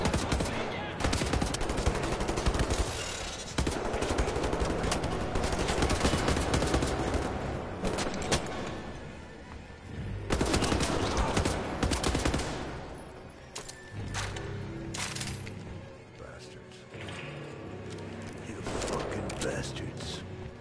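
Rapid pistol gunfire in Wolfenstein: The New Order, a first-person shooter set in the 1960s, cracks in dense bursts over loud game sound and steady talk, with short lulls between volleys.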